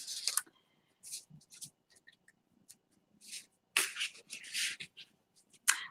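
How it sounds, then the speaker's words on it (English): Tarot cards are shuffled by hand at a Halloween tarot party, coming as quiet, close bursts of papery riffling and flicking separated by brief silences. "I'm just going to shuffle these cards"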